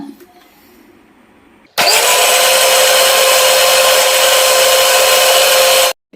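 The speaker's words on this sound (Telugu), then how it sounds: "ఇప్పుడు దీన్ని బాగా మిక్సీ పెట్టుకుందామండి మెత్తగా" After a short quiet stretch, a mixer grinder blending a protein shake starts abruptly with a loud motorized whir, holds at a steady high-pitched roar for about four seconds, then cuts off.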